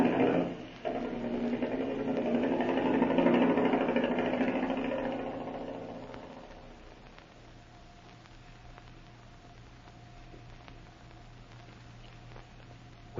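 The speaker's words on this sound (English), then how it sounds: "All right, start that motor, Marshal." A boat motor on a lagoon runs loud and steady for about six seconds, then settles to a quieter, even drone.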